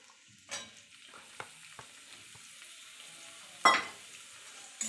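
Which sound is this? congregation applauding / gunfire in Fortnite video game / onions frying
onions frying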